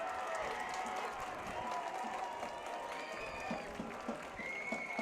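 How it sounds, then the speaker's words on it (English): A crowd at a high school varsity football game roars and applauds in a broad, continuous swell, with scattered shouts and whistles rising out of the din. "this crowd here is going to get loud"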